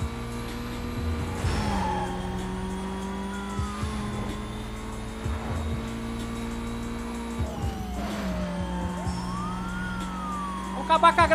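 Police car siren in the video game Need for Speed Most Wanted, a wailing tone rising and falling over a steady car engine drone during a chase, continuous throughout, with a few louder bursts near the end.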